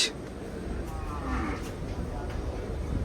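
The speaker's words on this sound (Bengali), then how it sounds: "তো টুকটাক আসছে গরু" Cattle low at a busy cattle market in Gabtali, Bangladesh, one moo drawn out over a steady background of crowd noise.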